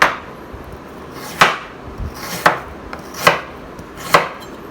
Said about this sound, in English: Cut the carrot, cut the edges off